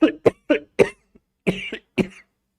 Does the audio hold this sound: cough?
yes